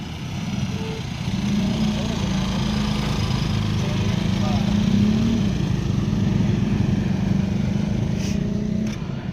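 A motor rickshaw engine runs steadily at idle, a continuous low rumbling drone close by throughout, with voices talking over it.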